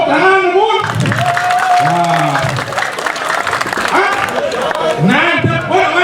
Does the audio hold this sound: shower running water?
no